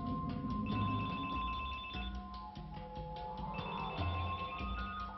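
A telephone rings with an alert tone, steady repeated electronic ringing that runs throughout, fairly loud and alone with no talk.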